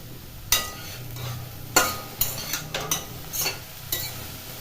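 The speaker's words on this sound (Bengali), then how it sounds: "ব্রোকিউলগুলি নাড়াচাড়া করে দিচ্ছি ব্রোকিউলটা মোটামুটি ভাজা হয়ে গেছে" Broccoli frying in a wok is stirred with a metal utensil: a soft sizzle underlies a series of sharp scrapes and clinks, about eight of them at irregular intervals, close up, with no speech.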